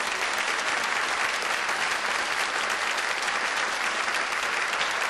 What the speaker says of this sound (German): Gib einen Beifall von unserem Publikum für Marion Faber.